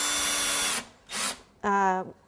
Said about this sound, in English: I'm just going to screw this in.